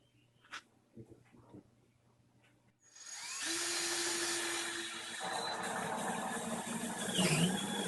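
Power drill boring holes through a quarter-inch-thick plastic container bottom for air pruning, a steady loud whine starting about three seconds in after a few faint knocks, continuing without pause to the end.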